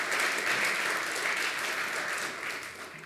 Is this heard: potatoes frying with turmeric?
no